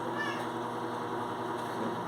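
A pet cat gives a short meow near the start, faint against a quiet indoor room hum, with nothing else happening afterward.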